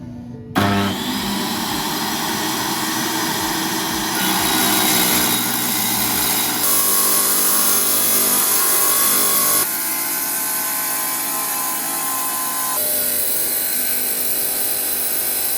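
A motorised saw cuts garden tiles with a loud, sustained whine and grinding roar that starts abruptly and runs continuously, shifting in pitch and texture as the blade bites through the stone.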